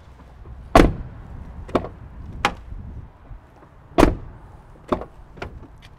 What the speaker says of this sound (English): I could do the old door opening close thing